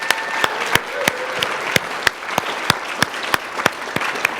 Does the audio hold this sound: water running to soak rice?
no